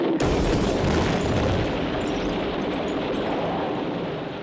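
Loud, sustained explosion of a special-effects model lorry being blown up, a deep rumbling boom that holds steady for several seconds before slowly fading.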